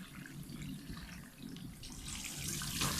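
Water runs from a tap during rinsing, a steady hissing, splashing stream that swells louder toward the end, close by, with no voices.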